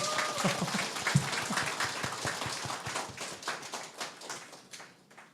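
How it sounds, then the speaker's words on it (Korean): An audience at a campaign office opening applauds, steady crowd clapping heard at moderate distance and tapering off near the end. "박수 한번 주십시오."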